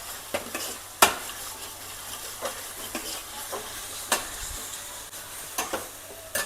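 Jalebi fish for sambar frying in a pan with a little added oil, a soft continuous sizzle broken by scattered sharp crackles and occasional stirring clatters.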